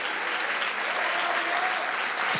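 Church congregation applauding during a sermon, dense, steady clapping that fills the whole moment, loud and close with no pause.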